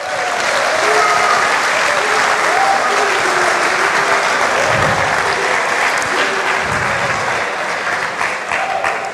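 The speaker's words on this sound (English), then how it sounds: "So give yourselves a nice round of applause." Loud, sustained applause from a large audience fills the hall at the 2018 Formula SAE Michigan awards ceremony, a dense, steady roar of clapping that holds for about nine seconds without easing.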